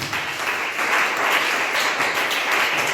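A church congregation applauding the Lord, a steady wash of many hands clapping together that fills the room without a break.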